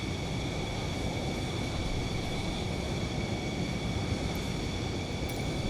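An F-15 jet taxis toward general aviation parking, its engine a steady, loud, unbroken roar with a constant high whine layered over dense low rumble throughout, and no voices.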